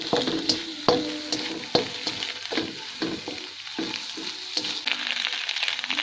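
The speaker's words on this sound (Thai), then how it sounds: "ผัดให้เข้ากันจนกว่ากุ้งสุก" Shrimp being stir-fried in a pan for simple shrimp fried rice, with repeated scraping strokes of a utensil over a steady sizzle, close and fairly loud with no talking.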